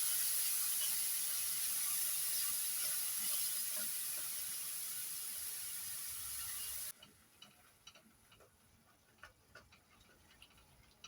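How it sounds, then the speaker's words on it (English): Tomatoes cooking in a pan being deglazed, a steady bright sizzle that cuts off abruptly partway through, leaving quiet ticks and light stirring clicks. "we want to deglaze our pan and also cook our tomatoes"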